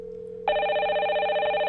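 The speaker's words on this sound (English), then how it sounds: "now we see it's ringing over here on the far left" An incoming call rings on MXIE phone software: a quiet low tone gives way to a loud, steady electronic ring that holds clear and close to the end.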